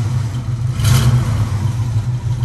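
A Cutlass car engine revving close by: a deep, rumbling low-frequency engine note with a brief rise in revs early on, then a steady, loud running drone.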